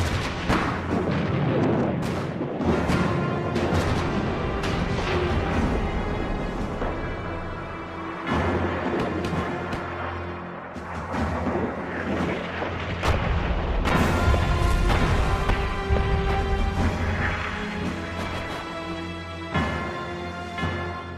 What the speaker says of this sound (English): Over their heads, American guns laid a barrage of shells to soften up the German